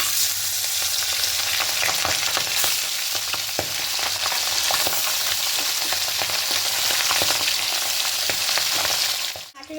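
Pabda fish frying in hot oil in a pan, a steady close, loud sizzle with occasional crackles and a brief clatter at the end.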